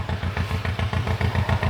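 A Farmall Super MD diesel tractor engine runs at a harvest festival, a loud, close, rhythmic chugging thump repeating steadily without talk.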